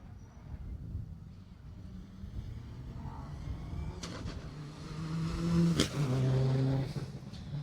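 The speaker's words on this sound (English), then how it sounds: "that was car 9, Martin Waters in their BMW E30" A BMW E30 rally car engine approaching and passing on a stage rally, the revving rising and swelling loud near the end, with the clip otherwise carrying engine hum and no clear talk.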